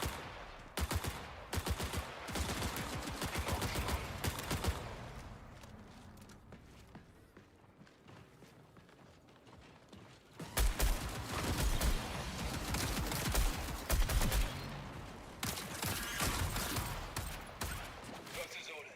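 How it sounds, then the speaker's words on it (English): Video game gunfire rattles in rapid bursts of dense automatic shots, broken by a quieter lull before heavy firing resumes, with footsteps and voices talking over it. "I'm definitely shooting at you."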